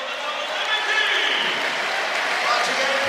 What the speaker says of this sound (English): nice round of applause for both teams